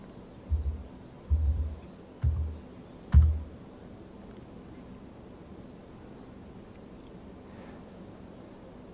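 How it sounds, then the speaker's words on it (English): A few soft key presses on a Zoweetek ultra slim Bluetooth keyboard tap out a four-digit code and then enter, four muted thumps close by, followed by quiet room tone. "I'll just go ahead and type in the 4-digit code on the keyboard and press the enter button."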